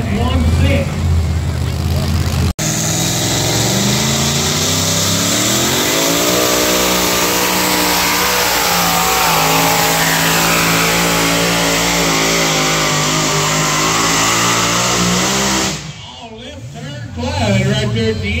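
An alcohol-fuelled two-wheel-drive pulling truck roars through a truck pull, its engine revving loud and close in one long sustained run. The pitch climbs and wavers before the engine cuts off abruptly near the end.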